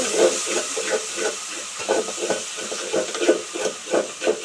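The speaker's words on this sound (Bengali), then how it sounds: "আদা রসুন বাটাটাকে একটু ভেজে নেব।" Ginger-garlic paste fries over a very low flame in a pan for Pakistani-style chicken biryani, a steady hiss with soft, rhythmic pulses of sizzle recurring throughout, close and fairly quiet.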